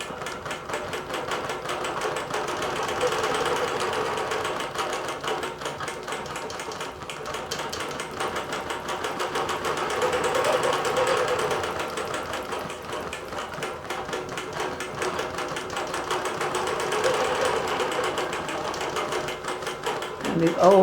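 Computerized quilting machine stitching a cotton quilt, a steady rapid mechanical whirr with ratcheting clicks running continuously at moderate loudness for the whole stretch, with no talking.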